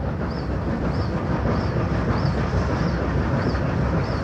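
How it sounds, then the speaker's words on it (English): Two 38-class steam locomotives hauling the Western Endeavour up grades as steep as 1 in 33: a dense, continuous heavy rumble and roar of the train, with a faint repeating higher chuff or squeal about every half second. "the first challenge for the two 38-class locomotives hauling the Western Endeavour"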